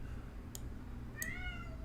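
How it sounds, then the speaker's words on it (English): Cat meowing twice, a short faint mew followed by a longer drawn-out meow, over a low steady background hum, fairly quiet and close. "This cat."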